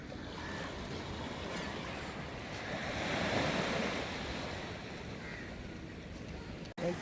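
Sea waves wash steadily onto a beach, a continuous close hiss and roar of surf with a gentle swell in the middle, mixed with some wind buffeting.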